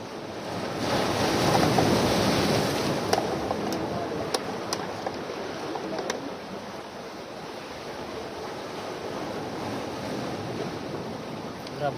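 Strong ocean waves surging and crashing at night while line fishing under moonlight, a dense continuous roar with wind buffeting the microphone, loudest early and then steady, with a few faint clicks.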